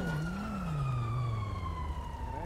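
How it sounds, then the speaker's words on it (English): A siren wails continuously, its pitch sliding slowly downward, fairly loud and steady throughout. "I hear sirens"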